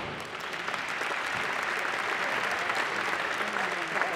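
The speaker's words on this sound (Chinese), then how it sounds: "鼓掌。" At a bowling world cup match, an audience claps steadily for about four seconds, a dense even wash of applause from a crowd.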